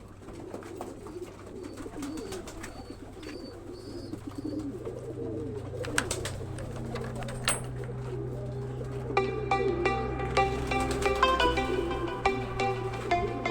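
Pigeons at a pigeon farm coo steadily in soft, low, overlapping calls, with occasional wing flutters and sharper clatters building toward the end.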